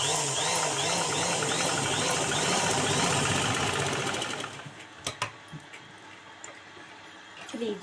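A sewing machine stitches a cotton blouse in a steady, close, whirring run that lasts about four seconds, then stops. A few sharp clicks and handling knocks follow.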